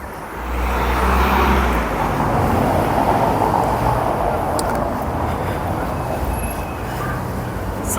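Tour cars and passing traffic in Prague's Old Town Square, a loud, steady road rumble of vehicles rolling close by, holding level with no voices.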